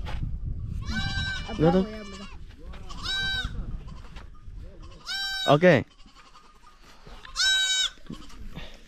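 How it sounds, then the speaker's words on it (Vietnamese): Goats bleat several times in a Hamar tribal village beside clay houses, each call a loud, wavering cry spaced a couple of seconds apart, with a person talking throughout. "Da có những cái con dê."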